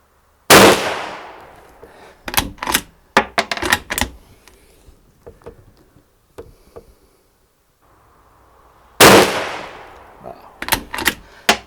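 A MAS 36 bolt-action rifle fires reduced-load ammunition at a range: two sharp, loud reports several seconds apart, each followed by quick metallic clacks of the bolt being cycled, with quiet pauses between.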